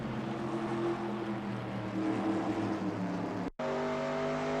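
Race car engine droning steadily at speed around Richmond in the NASCAR Racing 2002 video game, a sustained high-revving tone that cuts out briefly near the end before resuming at a higher pitch.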